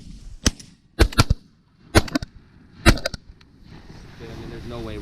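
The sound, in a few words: gunshot while waterfowl hunting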